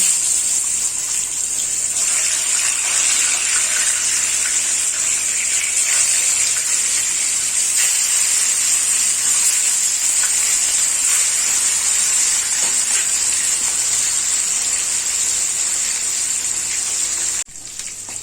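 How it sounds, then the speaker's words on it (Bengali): Katla fish pieces rubbed with salt and turmeric fry in hot oil with a loud, continuous, hissing sizzle that holds steady at close range before cutting off abruptly near the end. "আমি প্রথমে কাতলা মাছগুলোকে ভেজে নিচ্ছি।"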